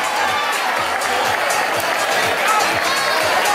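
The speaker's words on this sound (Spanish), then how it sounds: "Un aplaudimiento para todos." Crowd applause and cheering for runners at the 2022 Vuelta a Pie footrace in Canals, a dense, steady wash of clapping that lasts the whole stretch with a voice audible beneath it.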